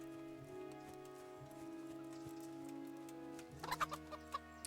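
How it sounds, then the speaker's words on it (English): Chicken clucking in the medieval video game Kingdom Come: Deliverance, a few short clucks rising near the end over a steady bed of game music and ambient sound. "There's a chicken here."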